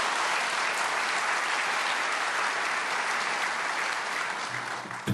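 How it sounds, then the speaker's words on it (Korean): A church congregation claps to welcome a pastor at a prayer meeting for peaceful reunification, a loud, even wash of applause holding steady before thinning out at the close. "귀한 말씀을 증거해 주실 동영진 목사님을 박수로 환영하시겠습니다"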